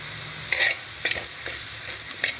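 Onion and carrot frying in coconut oil for a chicken biryani, stirred in a pan over a constant close sizzle, with a few short scraping strokes spaced through the clip.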